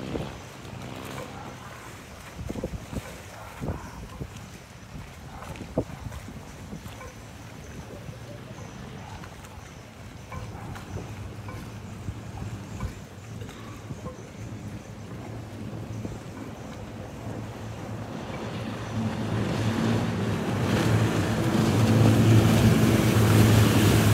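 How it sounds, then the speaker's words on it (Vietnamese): A large boat on a river runs a 50-horsepower Mitsubishi engine during a festive Tet parade in Phong Dien district. A steady motor hum and water wash build louder toward the end, with wind buffeting the microphone. "chạy cái chiếc vỏ bự bên đây, ba của Thái á, làm ca máy 50 ngựa Mitsu."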